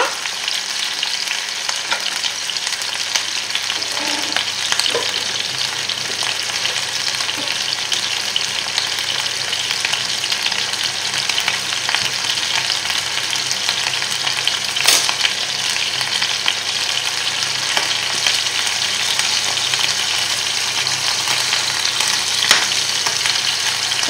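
Veal paupiettes sizzling steadily in a frying pan while being moved around, a constant bright crackle with occasional scraping stirs, close and alone without talk.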